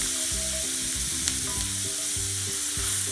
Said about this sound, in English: Cook it down, and all of that. Giving my onions a nice color.